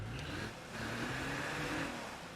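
Car engine in the State of Decay 2 video game, a steady drone with a rising tone as the vehicle drives and accelerates nearby, heard alone for a couple of seconds.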